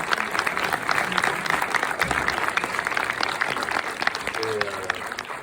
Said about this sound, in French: Thomas, je vous demande de l'applaudir.